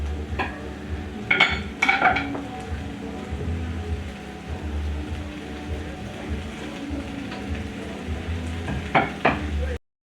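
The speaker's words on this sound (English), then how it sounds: "we're going to really let these tomatoes cook and we make a puree out of them" Tomatoes and carrots sizzle and crackle in a hot frying pan, a steady frying hiss with a few louder scraping stirs near the start and end.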